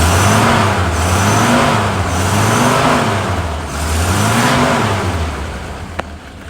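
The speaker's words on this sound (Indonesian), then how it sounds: "Mesinnya masih halus, enak sekali dengar." A 1970 Toyota FJ40 Hardtop engine on its original carburetor revs loudly and repeatedly, rising and falling in roughly three smooth cycles, close-up with no talk.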